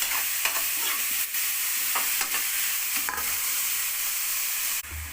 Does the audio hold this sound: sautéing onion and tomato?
yes